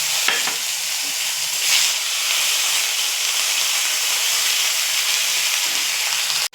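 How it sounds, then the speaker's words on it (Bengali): Onion paste hitting hot oil in a pan with whole spices, for a Bengali rohu fish curry with pointed gourd, giving a loud steady sizzle and hiss that runs throughout with no talking. "এবারে আমি সবার আগে পেঁয়াজ বাটাটা দিয়ে দিলাম"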